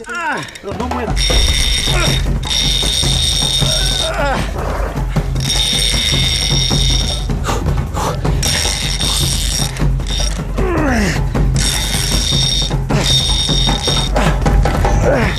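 A fishing reel's drag ratchets as a giant river catfish pulls line, a loud, continuous mechanical clicking under bursts of a high buzzing tone and steady rushing noise, with a voice talking over it.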